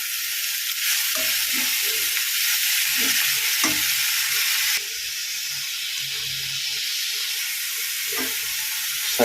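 Pumpkin leaves fry with salt and turmeric in a pan, a steady close sizzle broken by several scraping stirring strokes spread through the stretch.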